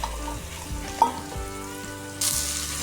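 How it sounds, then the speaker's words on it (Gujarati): Oil with asafoetida and mixed vegetables frying together in a pressure cooker, a steady close sizzle with a few stirring clunks and a brighter burst of hissing near the end. "કુકરમાં ઓઇલ નાખીએ અને હિંગ નાખી દઈએ અને બધા શાકભાજી એકસાથે જ નાખી દેવાના છે"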